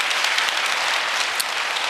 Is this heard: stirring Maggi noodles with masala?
no